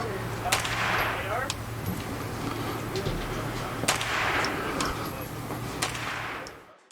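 Gunfire from a Kalashnikov USA KR-9 (KALI-9) at an outdoor range, heard as several loud, sharp shots at uneven intervals over a steady background hum, with no talking.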